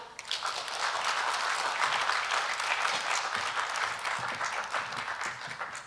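Audience applause after keynote presentations at an education AI forum, a full, sustained round of clapping from a sizeable crowd that swells quickly and tapers slightly toward the end.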